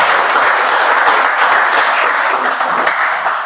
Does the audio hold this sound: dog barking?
no